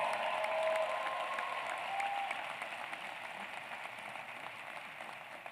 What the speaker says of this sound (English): Now let's give another round of applause for all of our 2021 graduates.